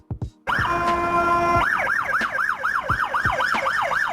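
A Finnish ambulance, such as a Mercedes-Benz Sprinter, sounds a steady horn tone, then switches to a fast rhythmic wailing yelp, loud and close with no voices.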